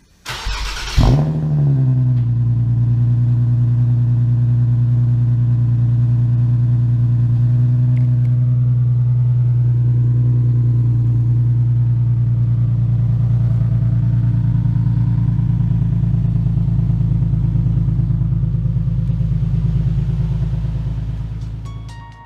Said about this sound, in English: So now let's start it up with the exhaust tips and see how it sounds.